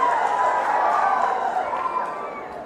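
A crowd at a political public meeting claps loudly, a dense, steady wash of applause that holds evenly and eases slightly toward the end.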